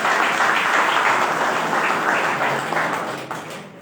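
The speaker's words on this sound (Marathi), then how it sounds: "त्या सर्व संयोजकांसाठी एकदा जोरदार टाळ्या वाजवा" A crowd at an annual school gathering bursts into dense, loud applause for the organisers. It is sustained steadily and then thins out slightly toward the end.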